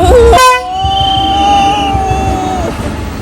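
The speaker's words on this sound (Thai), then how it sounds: "มาแล้วรถไฟมาแล้ว" A train passes close by and sounds a long, loud horn blast that holds steady for about two seconds over the rumble of the wheels, after a brief voice at the start.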